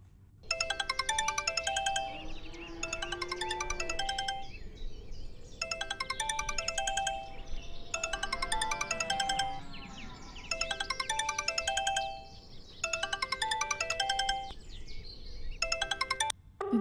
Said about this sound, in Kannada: ರಿಂಗ್ ಆಗ್ತಾ ಇದೆ, ಮಾತಾಡು.